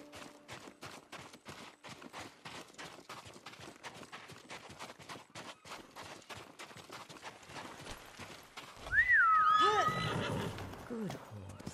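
Horse in Ghost of Tsushima trotting with steady clip-clop hooves throughout, then a loud close whinny near the end; no talk.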